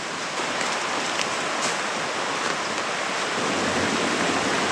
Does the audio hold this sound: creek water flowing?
yes